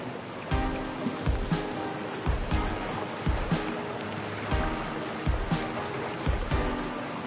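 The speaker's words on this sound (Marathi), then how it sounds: "कसलो पाऊस पडतंय म्हणजे विचार करा" Heavy monsoon rain pours down near Ratnagiri during a cloudburst, a dense constant hiss mixed with rushing floodwater and rhythmic thumping gusts or splashes close by; no one speaks.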